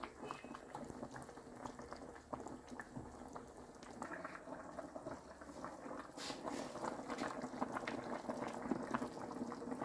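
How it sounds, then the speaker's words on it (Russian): Central Asian lamb plov bubbles softly in a pot, a quiet, continuous simmer with small pops and gurgles that grow slightly busier toward the end. "Ну, все. Булькотит."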